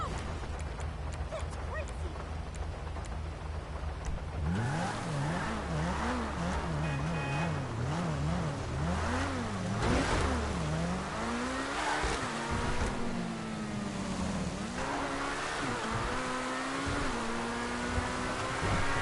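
A supercar engine in Grand Theft Auto Online revs hard and loud, its pitch climbing and dropping through repeated gear changes after a quieter opening, with tire squeal mixed in and no talk.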